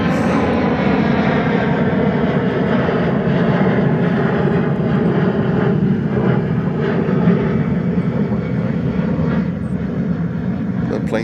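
Steady, loud roar of a jet airliner on the Canarsie approach into JFK airport, a continuous broadband engine drone lasting the whole stretch with no breaks.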